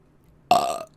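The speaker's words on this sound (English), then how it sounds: "Quality burp." A single loud burp, close and alone, about a third of a second long after near silence.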